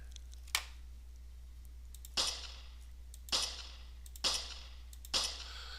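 Five separate gunshot sound effects from a Unity video game weapon, sharp bright cracks with short tails, spaced roughly a second apart over a steady low hum, with no voices.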